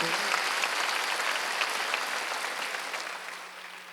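A church congregation at a Wednesday worship service breaks into applause, dense sustained clapping that fills the room and slowly tapers off toward the end.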